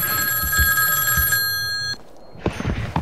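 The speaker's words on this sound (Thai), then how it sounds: "โอ้ยแม่งโทรศัพท์เข้า" An incoming call sets a telephone ringing with a bright, trilling electronic bell tone that holds steadily for a couple of seconds, then cuts off, leaving faint rustling and a few soft knocks.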